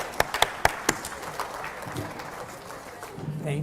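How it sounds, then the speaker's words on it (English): A short burst of clapping at a state fair food event, a few sharp claps at first, then thinning into light scattered applause with murmuring voices underneath. "let's give her a round of applause"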